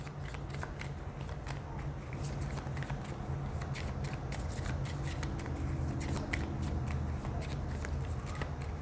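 Tarot cards are shuffled steadily, a continuous riffling and flicking with rapid repeated snaps, fairly quiet and close, with no talking.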